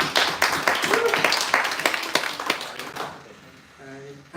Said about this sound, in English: Let's hear a huge round of applause for every project ship.